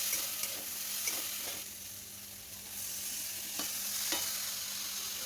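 Drumstick flowers with green peas, green chillies, salt and a little turmeric frying in a pan, a soft steady sizzle with spatula stirring scrapes in brief strokes, close but quiet, no voices.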